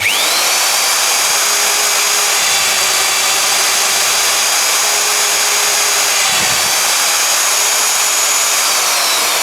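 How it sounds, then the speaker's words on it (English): A Rotabroach magnetic drill with a fresh cutter bores into 3mm steel plate, a loud, steady high whine that holds for the whole stretch with one brief dip near the end. "if I was to lift the drill into there, look, that is no bother boring a hole there with a new good cutter on it"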